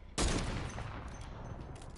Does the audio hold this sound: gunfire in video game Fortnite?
yes